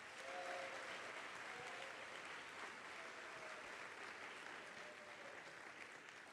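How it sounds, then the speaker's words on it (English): An audience at a Boys State general assembly applauds a guest speaker, a dense, steady wash of clapping that sounds distant and carries evenly throughout. "Let's get one more really big round of applause"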